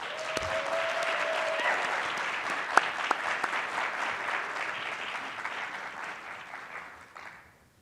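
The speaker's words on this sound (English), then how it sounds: "Let's have a round of applause for Captain Anthony Brooks." Applause from a conference audience honoring an award recipient, a police captain, at a group violence intervention event in Middle Tennessee; steady, dense clapping fills the room, with a brief tone early on, then fades out near the end.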